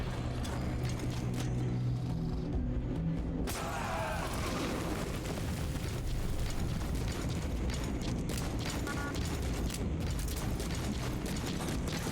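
A grenade goes off in Metal Gear Solid 5, a dense wash of blast noise and rumbling debris filling the whole stretch, loud and continuous with a sharp burst partway through.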